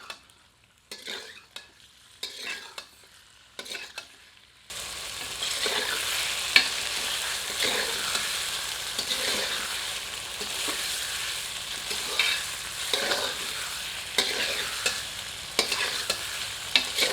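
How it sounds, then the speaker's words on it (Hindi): Marinated chicken and onions fry over high heat in a pan, giving a steady, fairly loud sizzle. The sizzle starts after a few soft stirring clinks and continues with occasional scraping stirs. "इसे प्याज के साथ मिलाकर 2 से 3 मिनट तीव्र आंच पर भूनते हैं।"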